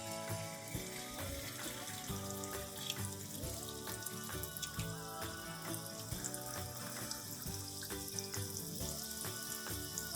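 Kara vadai, a crunchy South Indian fritter, frying in hot oil on a medium flame after the oil was heated on full flame, giving a steady, close, continuous bubbling sizzle with no talking.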